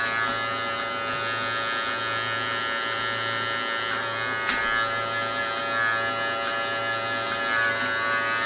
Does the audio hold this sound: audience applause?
no